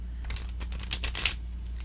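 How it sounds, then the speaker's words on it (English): An Art Nouveau tarot card deck being shuffled, giving soft papery riffles and crisp card flutters in short bursts with a sharper snap near the end, close and fairly quiet over a low steady hum. "This deck shuffles like a dream."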